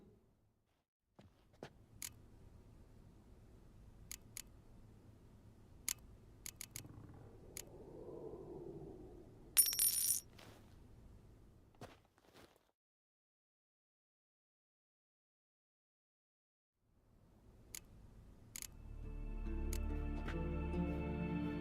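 Scissors snip through hair during a haircut scene in The Witcher 3 video game: scattered, crisp, faint clicks spaced over quiet stretches, with a low hum and a swelling tone near the end.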